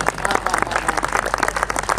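Audience clapping at a poetry recital event, a dense burst of many hands applauding together, loud and close, with faint crowd murmur underneath for about two seconds.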